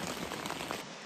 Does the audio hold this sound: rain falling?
yes